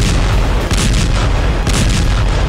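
Tank and artillery fire during Israeli ground attacks in Gaza: loud, continuous heavy rumbling with repeated deep booms and bursts, no voices.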